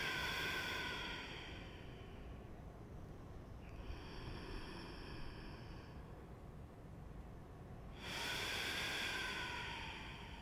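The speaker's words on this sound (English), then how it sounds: "longer, more filling inhales. And equally slow exhales, moving everything in reverse." Slow, deep yoga breathing, a long breathy inhale followed by a gradual exhale and then a new inhale, soft close airy rushes with no talking.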